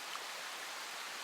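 Gentle rain falling in a still forest, a steady soft hiss of drops with no wind, continuous and even at low volume throughout.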